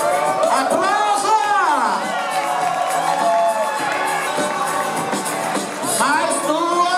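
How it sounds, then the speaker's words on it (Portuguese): Crowd at a drag show finale in a dance club cheering and whooping loudly, with shrill shouts and excited voices filling a sustained, dense roar and little distinct clapping. "Aplausos."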